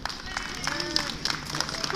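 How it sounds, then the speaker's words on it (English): A street crowd applauds a stunt performer in Reading, the clapping steady and moderately loud with a few whistles on top, a voice also audible under it. "how about one last round of applause?"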